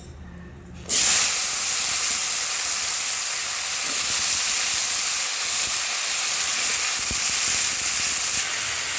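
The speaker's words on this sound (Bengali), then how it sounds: "মাছ ভাজা তেলের মধ্যে এবার আলুগুলোকে দিয়েও ভেজে নেব।" Potatoes drop into hot oil already used for frying fish and erupt into a loud, continuous hissing sizzle after a brief quiet moment, the sizzle holding steady and close throughout.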